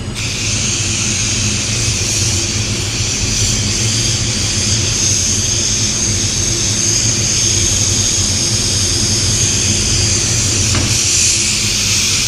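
An air blower drying water-based paint gives a loud, steady, close-up rushing roar with a high whine that holds nearly unchanged for about twelve seconds, with no voices.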